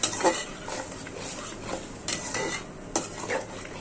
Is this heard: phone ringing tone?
no